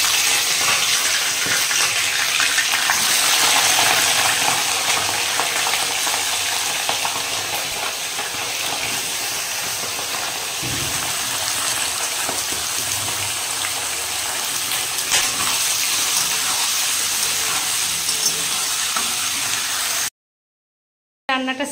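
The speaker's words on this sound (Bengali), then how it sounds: "আর আমি চিকেনটা প্রথমে একটু ভেজে নেব।" Washed chicken fries in hot oil, with a continuous crackling sizzle and occasional stirring scrapes that hold steady for about twenty seconds before cutting to silence.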